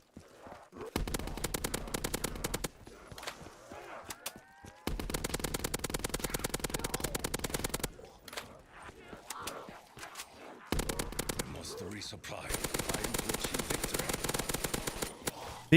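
Gunfire from Black Ops 3 custom zombies on a remastered Mob of the Dead map rattles out in long rapid automatic bursts, separated by brief pauses. A voice talks faintly between the volleys.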